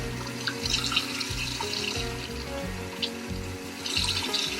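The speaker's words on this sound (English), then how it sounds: "So 3 tablespoons of water." Water added for brownie mix, poured from a tap in a kitchen, running steadily under low background tones.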